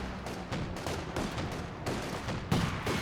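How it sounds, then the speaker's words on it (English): A Panzer IV tank fires during a Company of Heroes 2 battle, heavy booming shots and crackling gunfire in quick succession amid constant loud combat noise, one sharper blast near the end. "Your Panzer IV is firing away."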